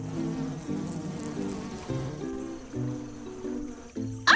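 Bees buzz steadily in overlapping drones that waver in pitch, fairly close, with a brief louder rustle at the very end.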